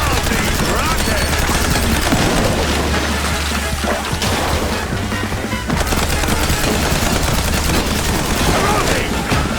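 Rapid gunfire and rocket blasts batter a rig in the video game MOUSE: P.I. For Hire, a dense, loud, continuous barrage of shots and booms with a steady low rumble beneath.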